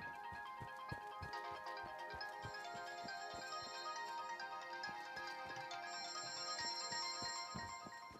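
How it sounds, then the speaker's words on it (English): A phone ringtone plays continuously, a bright repeating electronic melody with a steady pulsing beat, fairly close and clear with no talk over it. "oops, I can hear my phone going."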